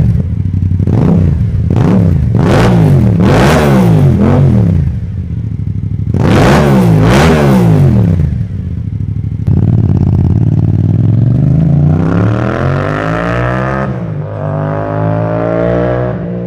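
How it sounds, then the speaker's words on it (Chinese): A Yamaha YZF-R7 with a 700cc twin-cylinder engine and six-speed chain drive revs hard in repeated loud bursts, rising and falling, then climbs into a long sustained high rev and drops back, with no voices. "我们先听一下发动机声音。"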